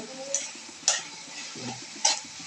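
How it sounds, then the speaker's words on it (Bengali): A spatula stirs a potato and bean fry with coriander leaves in a pan, giving a few sharp scraping clinks spaced apart over a faint sizzle, close and moderately quiet. "ধনিয়া পাতা দিয়ে একটু নাড়াচাড়া করতে হবে"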